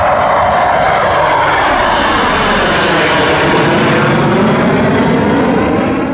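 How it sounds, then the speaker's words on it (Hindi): Mirage and MiG fighter jets fly low over an expressway airstrip, and their engines make a loud, continuous roar that swells and shifts over several seconds. No other sound is heard. "मिराज और मिग फाइटर जेट भी हवाई पट्टी को चूमते हुए अपनी ताकत का दुश्मन को बखूबी एहसास करा रहे हैं"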